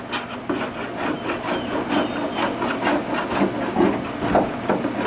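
A scraper works over the hull of a jon boat, lifting old paint softened with thinner; close, steady rasping strokes repeat in a rhythmic back-and-forth, continuous and fairly loud.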